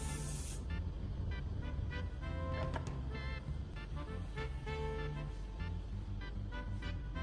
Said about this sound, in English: First, I spray a small amount of WD-40 into a small bowl